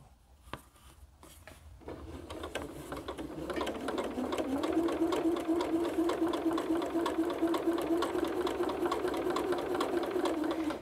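A sewing machine stitches a quilt seam on a Double Irish Chain quilt, starting with a few hesitant taps before settling into a steady, rapid mechanical whir that runs continuously and close.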